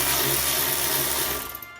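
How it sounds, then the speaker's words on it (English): A power tool drives a 13mm socket on the brake caliper bracket bolts of an Ecotec car during a big brake install, whirring steadily and close for under two seconds before tapering off. "insert your 13 and remove those 2 bracket bolts so you can remove your caliper"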